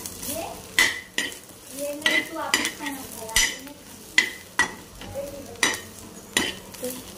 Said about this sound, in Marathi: तर बघा आता खोबरं पण असं भाजून घेते